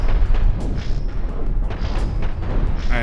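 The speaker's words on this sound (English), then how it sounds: "Meanwhile, the disruptor cannons are ruining our shields." Disruptor cannons firing in the spaceship game Cosmoteer, a loud, dense stream of booming shots and impacts with repeated sharp bursts over a constant rumble, alone without talk.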